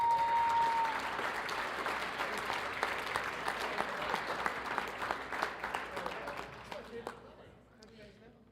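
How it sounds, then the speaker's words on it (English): Audience applause honoring the Otero County Prison Facility and the Bernalillo County Fire Department at a Special Olympics New Mexico law enforcement event, steady dense clapping from a sizable crowd that thins out and fades near the end. "let's give Otero County Prison Facility and Bernalillo County Fire Department a round of applause"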